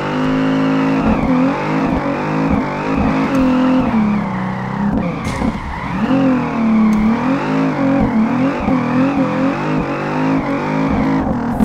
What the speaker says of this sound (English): All right, get some high speed drifts in here.